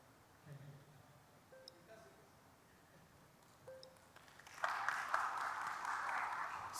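Audience applause at a live medical lecture swells in after faint ticks and tones, a steady patter of clapping from a crowded hall that carries to the end.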